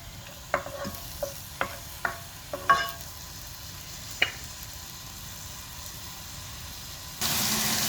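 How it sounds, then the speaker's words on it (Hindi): Onions sauté in hot oil in a pan, a soft steady sizzle under a series of sharp scrapes and clinks of a spoon stirring at irregular intervals, ending in a louder burst of sizzling. "इसमें अनियन को अच्छी तरह सौटे करेंगे।"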